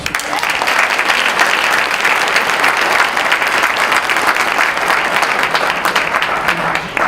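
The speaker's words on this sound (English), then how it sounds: "Big round of applause." Steady, sustained applause from a large audience at a high school event, dense clapping filling the whole stretch at even loudness with no talk over it.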